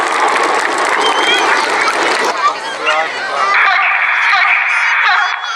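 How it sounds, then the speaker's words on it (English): Outdoor crowd at a Cleethorpes armed forces day applauding the Red Arrows synchro pair, loud clapping and some cheering, thinning after a couple of seconds as people's chatter and a steady drone carry on. "let's have a huge round of applause for the synchro pair"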